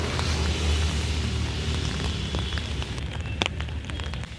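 Steady rain pours down at Kamal Pokhari pond in Kathmandu, a dense broadband hiss that holds loud and even throughout, with a brief sharper splash or knock near the end.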